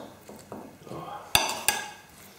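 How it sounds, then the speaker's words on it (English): A spoon gently stirring potato salad dressed with vinaigrette and chives in a bowl, giving soft scraping swishes and two sharp clinks of utensil against the dish. "just going to give it a very gentle stir"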